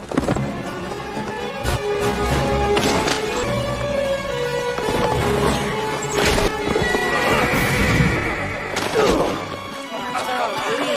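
Horse neighing and whinnying with clip-clopping hooves as a riding sound effect, sharp bursts and a crash-like hit layered over a continuous busy backdrop, fairly loud throughout.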